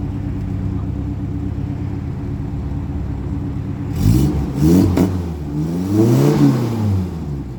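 A rare, barn-find Ford Thunderbird with about 7,000 miles idles with a steady low rumble, then is revved several times in quick swells that rise and fall, loud and close.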